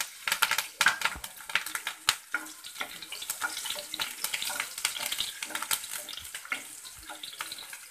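Chillies drop into hot oil in a home kitchen pan, crackling and spitting in dense, irregular bursts of frying that stay close and fairly loud throughout, with no talk.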